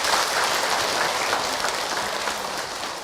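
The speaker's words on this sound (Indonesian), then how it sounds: "Tepuk tangan untuk kita semua" Steady applause from an audience at an Indonesian religious talk by Ustadz Hilman Fauzi, a dense continuous patter of clapping held at an even level for a few seconds, with no speech over it.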